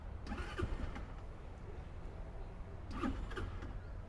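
Rks Pride 125 scooter starter pressed with the engine failing to start: two brief grinding starter bursts about two and a half seconds apart, faint against a steady low rumble.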